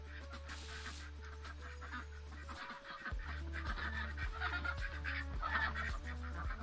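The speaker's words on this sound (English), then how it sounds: "Go check on the ducks." Ducks on a farm in a farming video game give repeated honking quacks in overlapping bursts over steady game background music, with no talking.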